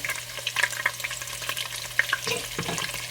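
Chopped onion frying in a pot of fat, a steady close sizzle with scattered crackles and light stirring scrapes throughout, no voices.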